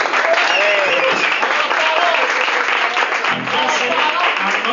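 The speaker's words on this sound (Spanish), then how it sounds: "¡Un aplauso!" An audience at a band introduction in Jaén applauds loudly and steadily throughout, with cheering voices and a voice talking over the clapping.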